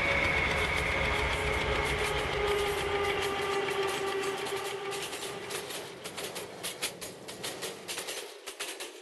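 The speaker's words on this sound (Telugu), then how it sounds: "ఆపోజిట్లో మెమో ట్రైన్ వెళ్ళిపోతుంది." A MEMU train passing on the opposite track in a mobile train game, a loud rumbling roll with a sustained horn-like tone fading into quicker clattering wheel clicks as it moves away.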